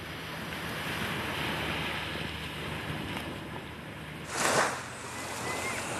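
Sea waves at Treasure Beach in the Caribbean in the early morning, a steady wash of surf under wind, with one brief louder wave swell near the end.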